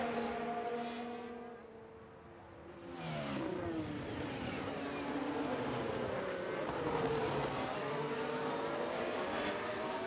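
Engine whine and revving from F1 race cars in the F1 Manager 2023 video game, several cars passing in an overtake, a steady loud drone with pitch sweeping up and down, dipping briefly before surging back.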